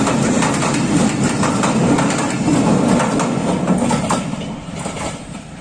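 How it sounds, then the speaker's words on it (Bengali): A train rumbles past close by near a bridge, a loud, continuous clatter of wheels on rails with faint rhythmic knocks that eases slightly toward the end. "ওই যে ট্রেন আসার কারণে আমি যেতে পারছি না।"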